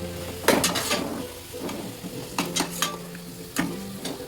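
Fried paneer stir-fried in sauces with a dash of vinegar over a medium-high flame: sizzling mixed with repeated sharp scrapes and clacks of a spatula against the pan, several bursts close up, no talking.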